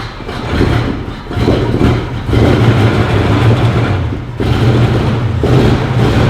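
Abandoned Ford Mustang engine running rough and loud with a steady low rumble and uneven revving as the car creeps along under its own power, with no talk.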